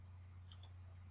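Two quick computer mouse clicks in SolidWorks CAD software, close together and crisp against a low steady hum, nothing else heard.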